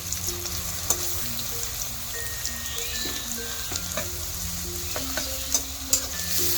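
Grated ginger and garlic frying in a pan for a potato filling, a steady sizzle with intermittent spatula clicks and scrapes while being stirred.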